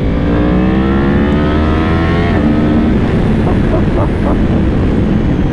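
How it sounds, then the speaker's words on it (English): A Yamaha R1M motorcycle exhaust roars loudly up close, engine pitch climbing through the gears before a downshift with crackling pops. "hopefully you'll be able to hear the sound of the exhaust a little bit better"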